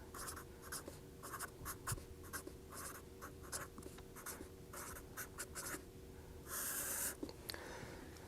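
Chalk or marker strokes on a lecture board in a fluid mechanics class, irregular bursts of scratchy writing with brief pauses and a longer squeaky stroke near the end, quiet and without talk.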